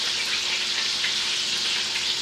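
Thyme sizzling and frying in a hot skillet where meat was just cooked, a steady dense crackle with soft bubbling throughout, close and continuous, no talking.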